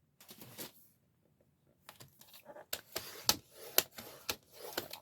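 Scissors cutting through a magnetic vent cover sheet, a series of sharp crisp snips and clicks, close and fairly quiet, with a short pause near the start.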